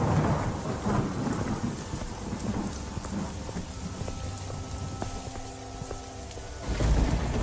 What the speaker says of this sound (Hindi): तभी जोर जोर से बारिश शुरू हो जाती है।